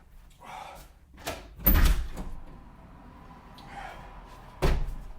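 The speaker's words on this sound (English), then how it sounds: "I have to open the door." A door is opened in a quiet indoor room, giving a couple of sharp thuds and clunks spaced a few seconds apart, with soft handling noises between them and no talking.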